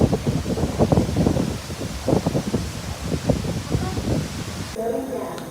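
Strong typhoon wind buffets the microphone in gusty, roaring bursts with rustling noise. A voice speaks briefly underneath, and the roar drops off abruptly near the end.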